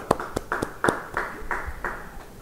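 Claps from a church congregation during a sermon, a series of sharp, separate hand claps in an uneven rhythm, close and moderately loud, with no talking over them.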